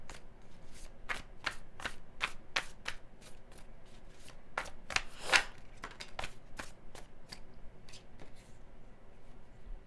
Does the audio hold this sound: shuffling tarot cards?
yes